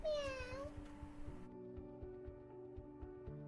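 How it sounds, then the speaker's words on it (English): Cat meows, one rising-falling call at the start, over a continuous background music bed that carries on throughout. "both the cats began to meow"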